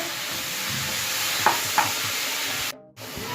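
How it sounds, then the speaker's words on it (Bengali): Spinach with a little salt stirred and fried in a wok, giving a dense close sizzle with two light scrapes, cut off briefly before the frying resumes, and no one talking. "পালং শাকটার মধ্যে সামান্য নুন দিয়ে 2 থেকে 3 মিনিট একটু কড়াই নেড়ে নেব।"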